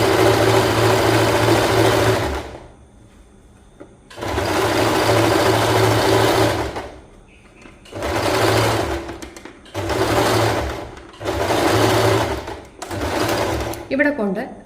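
Sewing machine stitching a cotton kurti at a tailoring class, running in loud bursts of a few seconds each with short pauses between, ending in quick reverse stitches; a voice speaks faintly in the gaps.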